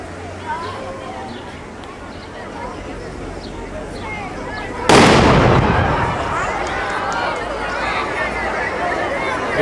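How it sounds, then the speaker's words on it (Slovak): A small controlled explosive charge, set by police bomb disposal at a 2011 demonstration in Hnúšťa, blasts open a car door with one sharp, loud boom about halfway through, over a steady murmur of a crowd. "Takisto bude nasledovať malý výbuch,"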